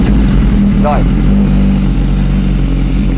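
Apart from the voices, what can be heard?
BMW S1000RR motorcycle engine starting and revving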